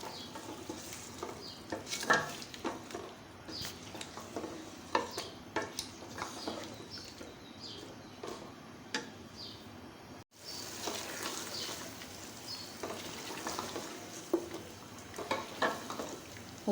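Chicken and soft frozen tomatoes stirred and fried in a pot for chicken pulao, a steady sizzle with repeated scraping and clinking of a spoon against the pot, close and continuous with a brief break midway.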